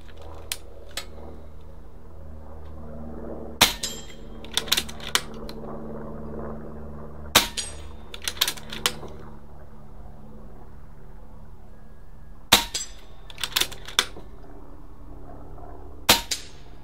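A Benjamin Kratos air rifle fitted with a red dot sight fires at a target 35 yards away: sharp, clean cracks come singly and in quick bursts over a low mechanical hum, with no one talking.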